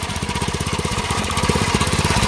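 A small homemade engine on a bean-head machine chugs loudly and close with a rapid, uneven knocking pulse, its beat wavering as if struggling to keep running.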